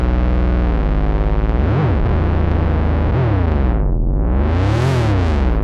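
A Moog Phatty synthesizer plays a buzzy, distorted tone while a sine-wave LFO sweeps the filter, so the brightness rises and falls in slow, wide swoops; no one speaks over it.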